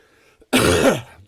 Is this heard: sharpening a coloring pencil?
no